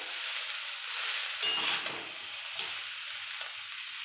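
Chowmein with vegetables, made for egg rolls, sizzles steadily in a hot pan while being stirred and tossed, with a brief louder scrape and clatter near the middle and constant close frying hiss.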